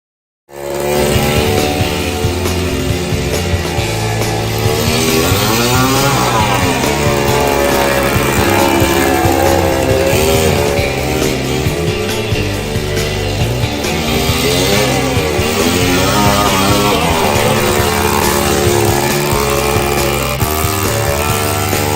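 A drift quad's engine revs loudly throughout a ride, its pitch sweeping up and down as the throttle rises and falls, close and continuous with no talking.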